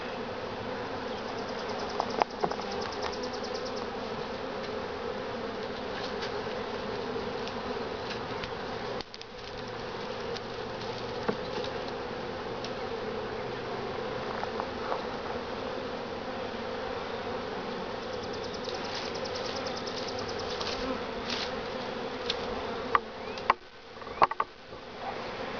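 Honeybees buzzing in a steady, dense drone throughout an open hive during a first inspection, the swarm close and continuous with a few brief louder bursts near the end, no talking.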